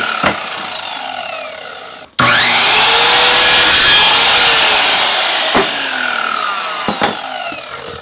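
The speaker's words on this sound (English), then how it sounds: "First, I'll cut the 2x4 into smaller pieces." A hand saw cuts through a 2x4 wood board, with a short stroke, a brief pause, then long rasping back-and-forth strokes that sound close and loud and finish with a few scrapes.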